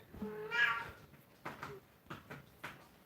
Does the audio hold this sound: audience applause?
no